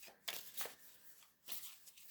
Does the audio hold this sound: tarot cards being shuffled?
yes